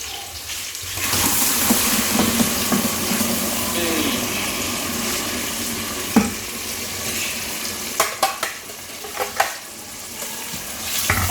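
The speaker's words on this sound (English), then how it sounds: "Allow it to fry for 10 to 15 minutes." Ground pepper mixture for Nigerian ofada stew fries steadily in a pot, a continuous broadband sizzle with occasional sharp clicks of stirring and scraping near the end, close up.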